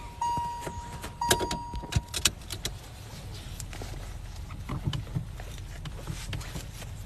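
A car drives on a snowy road, with a low steady rumble plus scattered clicks, knocks and rattles over the engine and tyre noise, heard from inside the vehicle.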